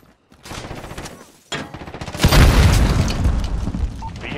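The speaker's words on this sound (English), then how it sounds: "Throwing a stun." A stun grenade goes off in Call of Duty: Modern Warfare multiplayer, a loud booming blast with crackling gunfire around it, following a short burst of quieter game noise.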